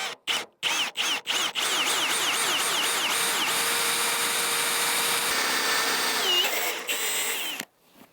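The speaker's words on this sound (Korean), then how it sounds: "이 해머 드릴과 어거 비트의 조합은 정말 강력해서 실제로 이만한 깊이의 구멍을 뚫는데도 전혀 무리가 없다는 거야." Hammer drill fitted with an auger bit boring a deep hole, opening with several short trigger bursts before a sustained whining drone that holds steady for several seconds and then cuts off, close and loud, with no talk.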